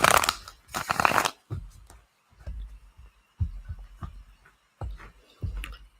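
Tarot cards shuffled by hand during a live reading, with two dense riffling bursts early on followed by a series of softer, separate taps and shuffles. Close and moderately quiet.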